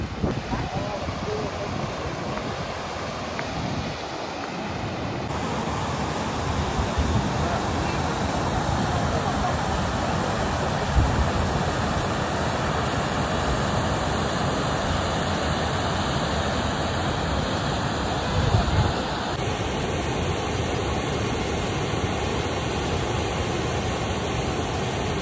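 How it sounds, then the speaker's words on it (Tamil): Pykara waterfalls in Ooty with a steady, dense roar of rushing water that carries evenly through the whole stretch, loud and continuous with no pauses. "அருவியோட சவுண்டு கேட்குன்னு நினைக்கிறேன்"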